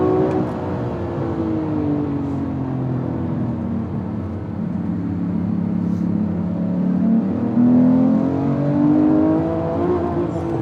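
Inside a Porsche 911 R with a manual gearbox and short gearing, the engine pulls hard, its loud rising drone building steadily in pitch as the car accelerates, with no talking over it.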